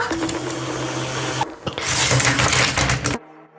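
A motorized LEGO hamster wheel drive whirs steadily with a buzzing, gear-driven hum, briefly changing pitch midway before cutting off abruptly near the end.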